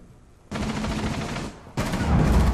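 Bursts of automatic gunfire in Rainbow Six Siege, loud and close: one sustained volley of about a second, a brief pause, then a second dense burst, with no talk over them.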